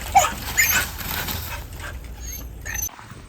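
Dog on a farm in dense forest making brief whimpers and yips, close and fairly loud, in a few short bursts over quiet background.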